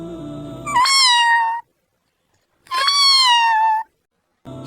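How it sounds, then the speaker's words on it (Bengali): Two clear, drawn-out cat meows, separated by a silent pause, loud and close, with the start of a third at the end. "হঠাৎ বারান্দা থেকে মিউ মিউ শব্দ ভেসে এলো"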